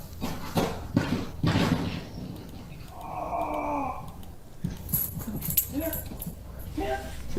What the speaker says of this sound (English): See, look, I have a border collie at home.